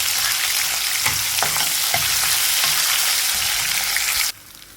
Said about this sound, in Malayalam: രണ്ടോന്നും മൂത്ത് വരുമ്പോൾ ജിഞ്ചർ ഗാർലിക് പേസ്റ്റ് ചേർത്ത് കൊടുക്കുക